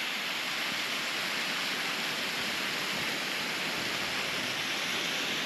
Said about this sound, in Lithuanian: Bet krioklys, prašau.